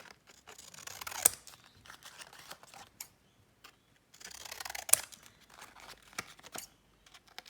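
Paper or card cut diagonally with a cutter blade for box dividers, two crisp slicing bursts with crinkling and soft handling rustles between them, close and alone.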